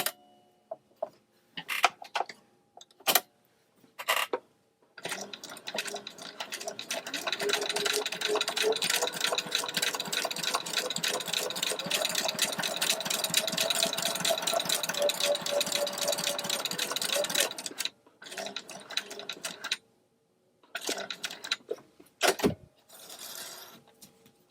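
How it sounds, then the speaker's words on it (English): A sewing machine runs a continuous line of gathering stitches along the edge of the presser foot, a steady fast mechanical whir for about thirteen seconds, framed by scattered clicks and handling noises before and after. "I'm going to do another one now at the edge of the presser foot"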